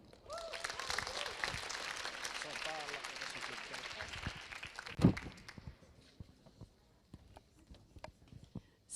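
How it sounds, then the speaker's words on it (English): Audience applause at a hackathon award ceremony, a sustained wash of many hands clapping for several seconds that fades out, followed by scattered room noise and faint talk. "can we still have a big round of applause for Helmi?"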